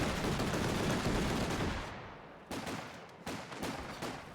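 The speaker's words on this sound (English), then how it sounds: "There could be the strafing now. This is strafing." Strafing gunfire in a video game: dense rapid bursts at first, then sharper separate cracks and short bursts, fairly loud with no talk over them.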